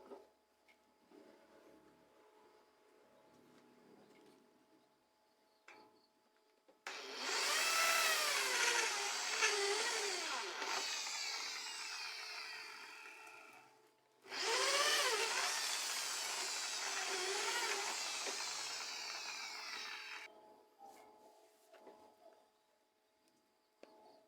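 A power drill bores holes for a large dove cage in two long bursts, whining with shifting pitch as the bit works through, close and loud, separated by a short pause with quieter background hum before and after.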